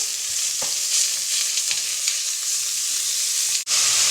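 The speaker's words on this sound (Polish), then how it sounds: "wrzucam mielone mięso. Mam tutaj po prostu mielony stek wołowy. I to się wszystko razem troszeczkę podsmaży." Minced beef steak fries with onion in a pan for stuffed peppers, a loud, continuous sizzle with faint scraping and a brief clatter near the end, with no voices.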